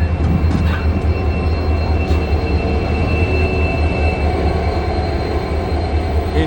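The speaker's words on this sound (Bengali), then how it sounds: "Indian railways." An Indian Railways train rumbles steadily past a roadside tea stall, a loud continuous roll of wagons with occasional faint wheel squeals and no talking.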